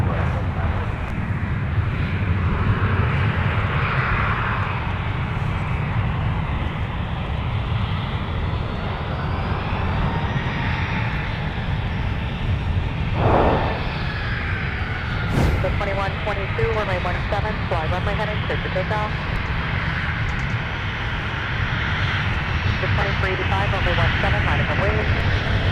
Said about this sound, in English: another look at our arrival that just touched down on the south parallel